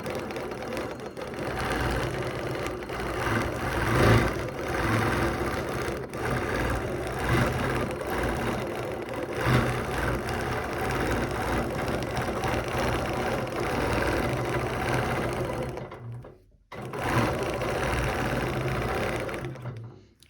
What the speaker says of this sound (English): And then I'm just going to keep stitching all the way across